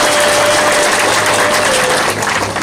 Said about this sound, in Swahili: naomba wajipigie makofi